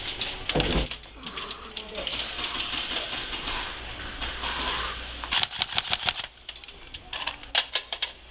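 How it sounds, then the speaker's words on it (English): Rapid bursts of video game gunfire crackle in sharp clusters, loud and close, with pauses between volleys and a busy background of other game noise. "Are you shooting at the guy on the desk?"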